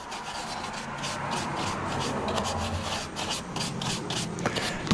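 Steady rubbing and rasping of abrasive paper on a segmented wooden bowl, a continuous close scratching with slight rhythmic swells and no talk.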